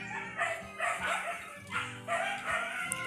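Several dogs bark and yip excitedly in Zamboanga, Philippines, in a rapid overlapping chorus of sharp high calls. The barks come in repeated bursts and sound fairly close.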